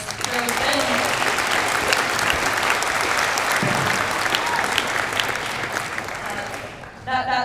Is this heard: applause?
yes